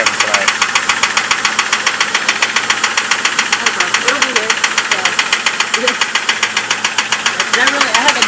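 A car engine knocks and bangs in a fast, steady metallic rhythm while idling, a fault suspected to be bad lifters or an oil pump; the clatter is close and loud, with a voice speaking briefly over it.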